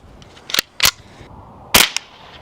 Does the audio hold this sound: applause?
no